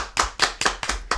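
Short burst of applause for a player finishing the final round of a Vélonimo board game championship, five or six sharp, spaced claps from a small group, close and fairly loud.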